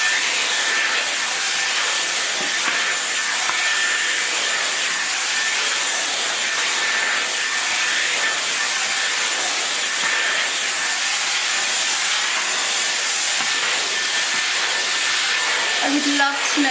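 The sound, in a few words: Dyson Airwrap hair styler blowing air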